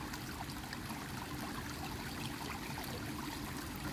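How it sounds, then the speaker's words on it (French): Forest stream water in the Valin woods flows steadily, a continuous, even rushing and babbling with no breaks, moderately close and alone without voices. "Je vous laisse écouter l'eau, le flux naturel"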